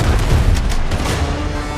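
Ship cannons firing broadsides in the naval game Windrose, a loud, dense rumble of deep booms rolling together and sustained throughout.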